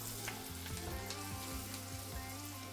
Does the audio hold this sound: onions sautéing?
yes